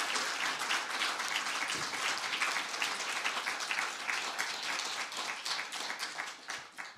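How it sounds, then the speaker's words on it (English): Steady applause from an indoor audience at a Santa Barbara city council candidates forum, dense overlapping hand claps sustained for about seven seconds with no speech over it, tapering slightly at the end. "Give me an applause."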